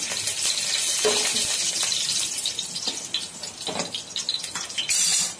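Chicken pieces fry in hot oil in a pan while being stirred for biryani, a steady bright sizzle broken by scraping stirs and occasional clatter, with a voice talking over it.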